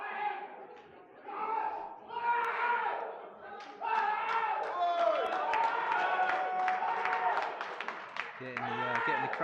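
A crowd at a European powerlifting championship cheers and claps to rouse a Masters lifter before a 170 kg world record attempt, loud and continuous with shouts rising over the noise.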